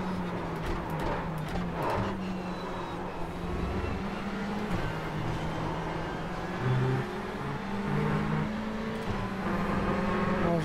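Ferrari 488 GTE race car engine lapping at Le Mans, a steady droning whir with shifting pitch and occasional revving surges, continuous and fairly loud with no talk.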